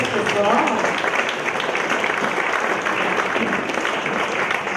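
Indoor audience at a plenary presentation clapping together, a dense, steady wash of applause at moderate loudness lasting the whole stretch without letting up.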